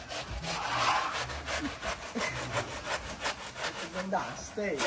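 A hand saw cuts through wood while wedding pandal structures are being built, its steady back-and-forth strokes rasping loudly and close throughout.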